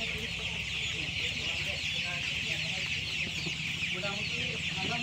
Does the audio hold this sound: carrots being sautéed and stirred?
no